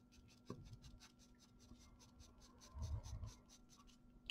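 A hard H graphite pencil hatching on drawing paper, rapid rhythmic scratchy strokes repeating evenly throughout, quiet and close, with a couple of soft bumps of the hand against the page.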